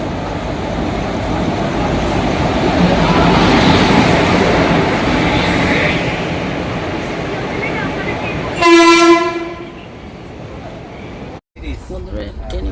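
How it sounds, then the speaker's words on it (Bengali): A passenger train arrives at an Indian railway station, its rumbling approach heard under continuous talk, then a loud sustained horn blast near the end, followed by a brief cut. "বিলাসপুর থেকে আসছে এই ট্রেনটা"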